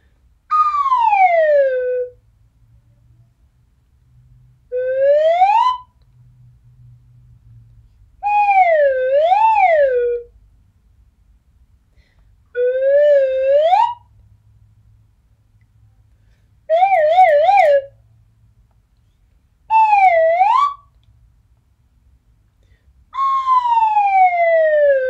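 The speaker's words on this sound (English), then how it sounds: "I have my slide whistle again." A slide whistle plays seven separate swooping glides, rising, falling and wavering, each about a second or two long with short pauses between, loud and clear with only faint background noise.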